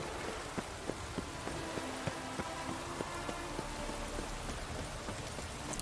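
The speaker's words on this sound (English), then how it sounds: "Rain doesn't bother you, it seems." Steady rainfall in The Witcher 3: Wild Hunt on the isles of Skellige, a continuous wash of drops with scattered sharper patters, heard alone at a moderate level.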